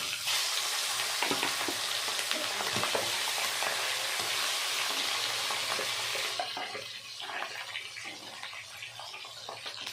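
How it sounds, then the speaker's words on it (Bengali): Rohu fish heads fry in mustard oil with a loud, steady sizzle that sits close and alone, easing off slightly toward the end with scattered crackles. "দিয়ে দেব সর্ষের তেল মাছের মাথা দুটো ভেজে নেব"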